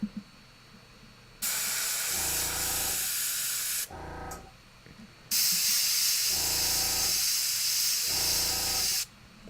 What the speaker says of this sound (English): my first shot usually misses, but I start spraying so subtly that I can drag it into the right position and then really open up and let some paint flow